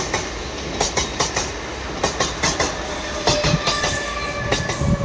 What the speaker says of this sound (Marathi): बघा आता ट्रेन वगैरे आलेली